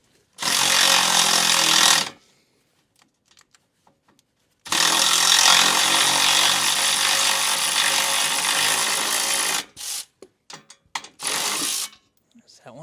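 Ratchet working a rusty bolt on a Honda Fourtrax 300 engine, two long bursts of rapid clicking, close and loud, followed by a few short clicks and pauses.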